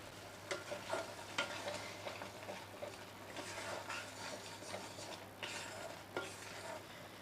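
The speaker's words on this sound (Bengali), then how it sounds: "এবার এটা মিক্সড করে নিই।" A spoon stirs chicken bharta mixture in a pan, with scraping strokes at an uneven rhythm over a soft, steady sizzle of frying, close by, with no voices.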